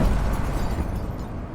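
A cannon blast rumbles deep and loud, a heavy low boom that rolls on and slowly decays across the whole moment, alone with no talk.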